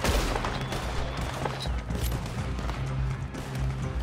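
Gunfire in the Red Dead Online video game, a steady barrage of shots and impacts layered over a dense, continuous battle soundscape.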